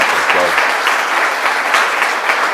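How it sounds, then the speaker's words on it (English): Sustained applause from a crowd, dense and even clapping throughout, with a brief voice audible at the start. "So give her another round of applause."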